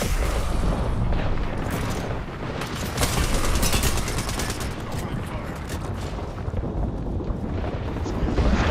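Dense gunfire and booming explosions from an Apex Legends match run throughout, with rapid bursts and heavy blasts rising and falling in loudness, and a player's voice comes in now and then.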